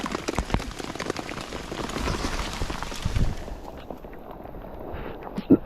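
Rain falls outdoors on a River Thames riverbank during a club fishing match. It makes a steady close patter on surfaces that thins out partway through, and a couple of dull knocks come near the end.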